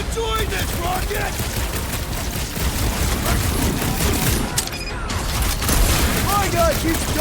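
Dense gunfire and booming blasts from the video game Guardians of the Galaxy, loud and continuous throughout, with game voices talking over the shooting.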